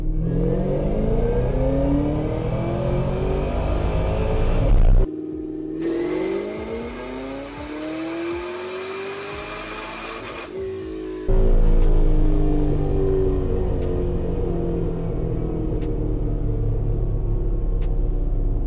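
A Kenne Bell supercharged 2010 Camaro SS V8 revs hard on a dyno, engine pitch climbing steadily in long pulls, broken by a brief lift-off and drop before it roars up again, loud and close.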